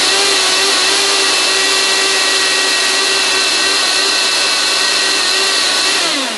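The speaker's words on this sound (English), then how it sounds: "turn it on at low speed first. By the way, this blender is 30 years old." A 30-year-old blender motor whirs steadily at low speed, a loud, continuous high-pitched mechanical drone with a constant tone throughout that tapers slightly at the end.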